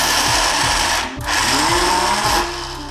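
A mixer grinder coarsely grinds soaked chana dal with green chillies and curry leaves, its motor roaring loud and close in pulsing bursts with a brief dip near the one-second mark.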